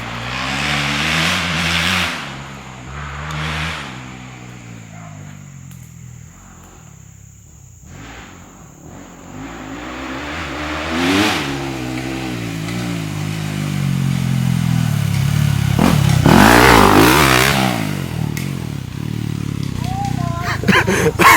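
Motocross dirt bike on a backyard track, engine revving and rising and falling as it rides past, with people talking over it.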